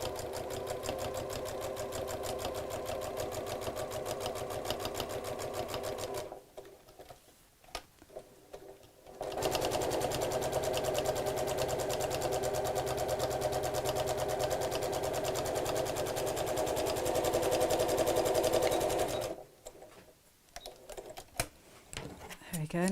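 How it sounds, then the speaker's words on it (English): Sewing machine stitching a bag, a close steady motor hum with fast needle chatter in two long runs, separated by a pause with light handling clicks, then stopping again near the end. "stop with the needle down and then twist the whole thing around and carry on sewing"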